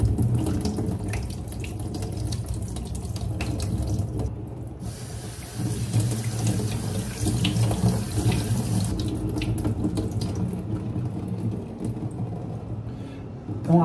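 Steady running tap water splashes continuously into a bowl of sago pearls being rinsed, a full, close rushing sound with small shifts in flow throughout.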